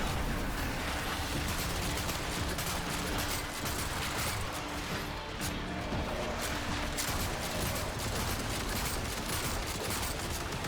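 Dense, continuous gunfire rattles without pause in the sci-fi shooter Warframe, a loud, crackling barrage of rapid mechanical shots layered over one another.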